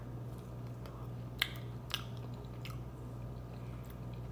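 Close, quiet chewing of a piece of unwashed fruit with its peel on, with two sharper crunchy bites standing out against a faint steady hum and no speech.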